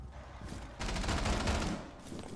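A burst of rapid gunfire in Rainbow Six Siege, a continuous volley lasting about a second, moderately loud and somewhat distant, with no speech.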